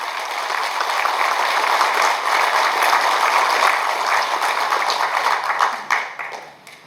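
A large crowd at a political party's regional chair inauguration ceremony breaks into dense, sustained applause that holds steady at full strength for several seconds, then thins out and fades toward the end.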